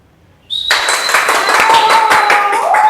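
Audience applause breaking out at a festival storytelling performance, a dense burst of many hands clapping that starts abruptly after a short quiet moment and keeps going loud and steady.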